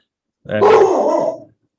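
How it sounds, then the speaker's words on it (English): A dog gives a single loud, close bark with a rough growling edge, lasting about a second before silence returns. "what you hear is a dog barking."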